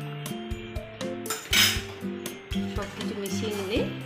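A spoon scrapes and clinks against a pan while mixing kabuli chickpea curry with ghee and chopped coriander leaves, in irregular close metallic knocks and scrapes.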